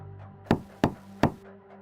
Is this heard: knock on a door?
yes